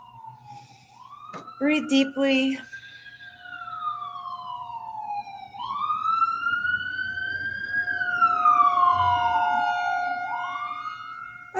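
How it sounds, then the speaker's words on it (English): An ambulance siren wails outside, its rising and falling tone sweeping steadily for most of the stretch at moderate distance, with a brief spoken voice near the start. "there's also an ambulance going on out there."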